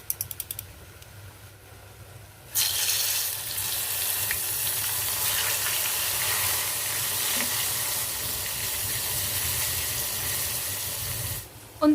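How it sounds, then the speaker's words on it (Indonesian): Tempeh deep frying in hot oil in a home kitchen pan, a loud steady sizzle that bursts in after a quiet start and carries on evenly, with faint clatter at the edges. "Ini tempenya udah mateng, jadi langsung aja aku angkat, terus lanjut goreng yang keduanya."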